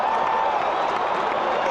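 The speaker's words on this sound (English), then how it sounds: "Dodgers fan applaud as we go to the bottom of the 6th" A crowd of Dodgers fans applauds in the OOTP18 baseball video game, a brief, steady wash of clapping and crowd noise at even loudness.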